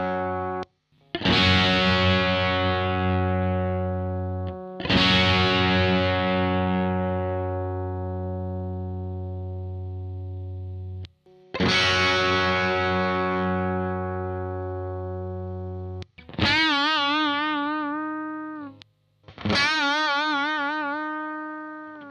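Overdriven electric guitar played through a Soldano SLO 100 or Kemper Profiler, ringing out as sustained distorted chords that decay slowly, then shorter vibrato-laden notes, loud and alone.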